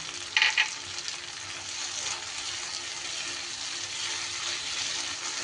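Chopped green chili hits oily spice masala in a pan for paneer bhujia, a brief sharp clatter at the start, then a soft, even sizzle running steadily throughout.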